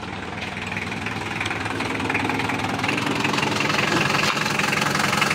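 A Mitsubishi Strada L200 engine idles steadily up close, a continuous loud rumble with a slight knocking pulse and vibration, unchanged in pitch throughout.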